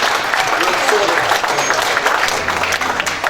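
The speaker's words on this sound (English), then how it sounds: "Round of applause." An audience applauds at a charity dinner auction right after a lot sells, a dense, even round of clapping that holds for a few seconds at fairly close range, with faint voices beneath.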